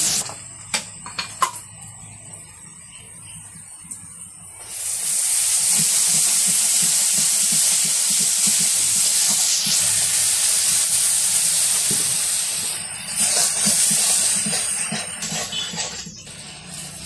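Onions and green chilies fry in hot oil in a wok for a village-style fish curry, first with a few faint clatters, then a loud, steady sizzling hiss that holds for most of the stretch, briefly dipping near the end.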